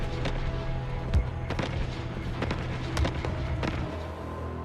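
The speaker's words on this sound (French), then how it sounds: "Les artilleurs anti-aériens ont tiré plus de 1400 obus sur un objet mystérieux flottant au-dessus de la ville." Anti-aircraft artillery fires over Los Angeles in a dense, continuous barrage, with repeated sharp blasts and a few heavier booms standing out above a steady rumble.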